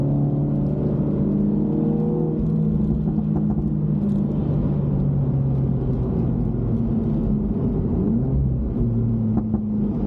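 A Mini Cooper S F56 on a track day chases a Nurburgring edition VXR, with a steady in-car engine drone and rumble rising and falling in pitch as the car accelerates, and no voices.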